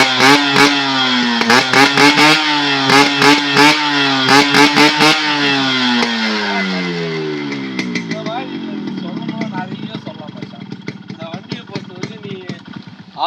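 Yamaha RX100 two-stroke motorcycle engine revved in repeated sharp bursts, then settling into a steady rattling idle with a falling note, loud and close with no voices.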